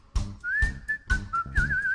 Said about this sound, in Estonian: Teile vilistab